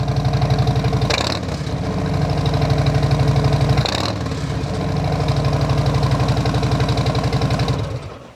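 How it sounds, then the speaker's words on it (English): Motorcycle fitted with a TAB 50 cal slip-on exhaust and zombie baffles, idling loud and close with a throaty, pulsing rumble, blipped up in two quick revs before dropping back. "here is the 50 cal with the zombie baffles. Definitely louder."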